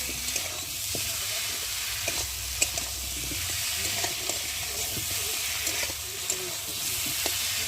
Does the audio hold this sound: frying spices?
yes